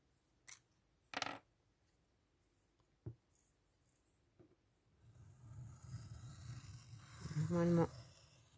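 Craft knife cutting paper on a cutting mat while making a Christmas-themed vintage bullet journal page: a few sharp isolated scrapes and taps, then a longer, louder scraping cut near the end, close up with no talking.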